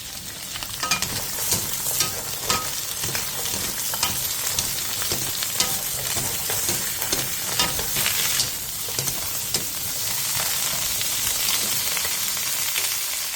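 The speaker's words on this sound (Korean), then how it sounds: "팬에 기름을 두른 뒤 마늘종과 소금 2분의 1티스푼을 넣고 센" Garlic scapes with salt stir-frying in oil over high heat: a loud, continuous sizzle with scraping and tossing noises throughout.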